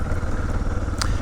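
A motorcycle rides along a scenic route on Mt. Carmel, its engine a loud steady drone close by with wind rush throughout the short stretch.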